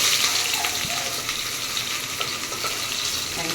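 Onions fry and sizzle steadily in a pan for chicken biryani, a close, constant crackling hiss with faint stirring sounds and no voices.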